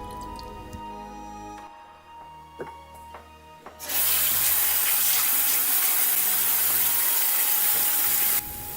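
Salted white radish rinsed under running water in a kitchen sink, starting with a few drips and splashes before a loud, steady gush of tap water flows for several seconds, then stops.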